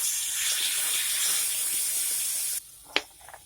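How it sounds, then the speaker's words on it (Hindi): Onion paste hitting hot oil over a high flame with garlic paste and red chilli, sizzling loudly and steadily with no talk, then cutting off abruptly, followed by a brief clink and a few faint kitchen sounds. "प्याज डाल लें और इसे 1 से 2 मिनट तक हाई फ्लेम पे फ्राई करेंगे।"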